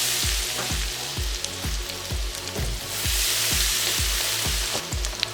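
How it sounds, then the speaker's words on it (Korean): Potatoes, shiitake mushrooms, shishito peppers and bujigaengi greens deep-frying in oil for tempura give a loud, steady bubbling sizzle, with regular dull knocks sounding beneath it. "부지깽이를 마지막에 넣고 튀긴다"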